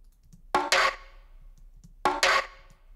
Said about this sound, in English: it's this really sharp 1-2 for the first and second snare